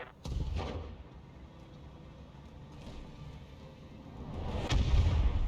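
Thumper artillery strike in the video game BattleTech, with distant booming impacts rolling across a valley, a sharp thud near the start and a heavier rumbling blast near the end over a low continuous drone.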